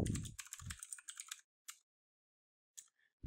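Rapid clicking keystrokes on a computer keyboard as a password is entered, a quick run of taps, then a pause and a few scattered presses, close and faint.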